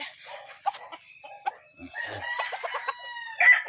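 A Raptor Sweater gamefowl rooster lets out a loud, close crow with a few short clucks just before it, heard alone without speech.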